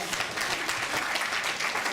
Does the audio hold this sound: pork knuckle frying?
no